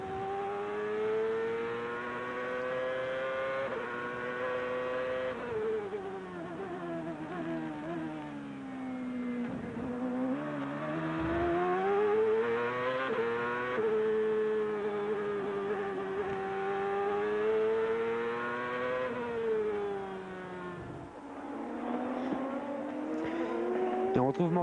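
Indy race cars at Laguna Seca Raceway during the 2000 Grand Prix of Monterey, engines howling and rising and falling as they accelerate and slide, loud and continuous under race commentary.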